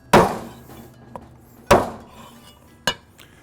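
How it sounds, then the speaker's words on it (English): Pork ribs chopped through the bone with a cleaver on a cutting board: three sharp, loud, close whacks spaced about a second apart, each with a brief ringing decay, plus a faint tap between. "So I'm going to just chop these up here."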